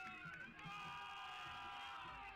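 Arena crowd at a Milwaukee Monarchs vs Columbus Pride game roars in a steady, distant wash of cheering and whooping, faint overall, with a commentator talking over it.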